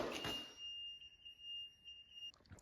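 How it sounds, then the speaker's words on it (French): A cheap Chinese-made electronic device gives a single sustained high-pitched electronic beep tone lasting about two seconds, after a brief burst of noise at the start, with faint clicks near the end. "Le truc chinois, le truc fait bip,"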